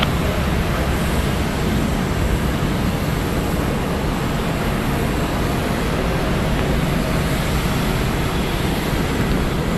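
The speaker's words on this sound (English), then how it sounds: "Departing Delta Airlines flight 2465 going to Albany. It is a Airbus A320, 19 years old." A 19-year-old Delta Airlines Airbus A320 departing Atlanta Hartsfield-Jackson airport, a loud steady jet engine roar that holds constant throughout.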